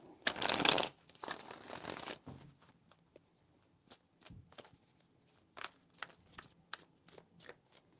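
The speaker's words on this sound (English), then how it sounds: "Three shuffles." Two loud, close riffle shuffles of a tarot deck open the moment, followed by a run of lighter taps and card snaps as the deck is squared and handled.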